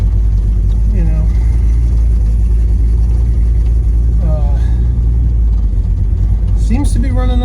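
A 1967 Pontiac GTO's engine rumbles loud and close from inside the car while driving, a deep steady drone with rising revs, and voices talking over it at times.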